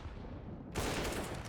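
Rapid gunfire in a Counter-Strike match on the Mirage map during a professional esports game, a dense burst of shots that starts suddenly partway through and stays loud and close until the end.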